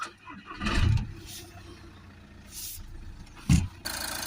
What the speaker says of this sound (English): So we're just going to start the engine.